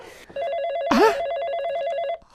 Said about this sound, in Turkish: Telefon çalıyor olamaz.